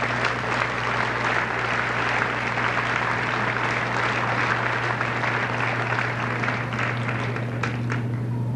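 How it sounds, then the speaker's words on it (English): Audience at a junior high school graduation applauding the school office staff, a dense, steady wash of many hands clapping that holds loud and even throughout. "I think they deserve a big round of applause"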